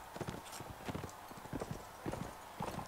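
Horse hooves clip-clop in the video game Mount and Blade: Warband, a run of quick, uneven hoofbeats at close range over faint background game noise.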